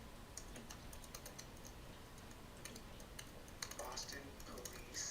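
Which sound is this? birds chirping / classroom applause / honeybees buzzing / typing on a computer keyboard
typing on a computer keyboard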